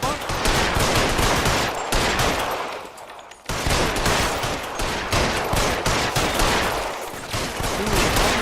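Sustained bursts of gunfire in a 1940s Los Angeles shootout from L.A. Noire, loud rapid shots rattling almost continuously with only a short lull, with faint voices now and then.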